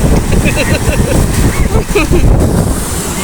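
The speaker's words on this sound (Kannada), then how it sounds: "ನೀರು ನೀರು ನೋಡಿ ನೋಡಿ ನೋಡಿ ನನ್ನನ್ನೇ ತಲ್ಕೊಂಡು ಹೋಗ್ತಾ ಇದೆ" Rushing river water splashing around a person wading, a loud continuous wash with wind buffeting the microphone, while someone talks excitedly over it.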